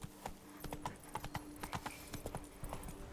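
Roach, a horse in The Witcher 3, trots along with rapid, even clip-clopping hooves, quiet and steady throughout, with no voices over it.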